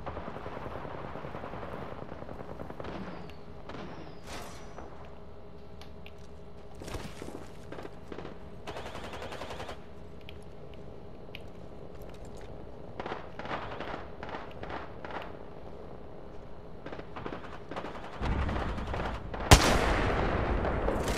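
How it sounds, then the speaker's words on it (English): Gunfire in the battle royale game Apex Legends, heard as repeated sharp shot bursts and rapid volleys of varying distance over a constant ambient rumble, ending with a louder, denser stretch of action. "Shots fired. And they're hitting me."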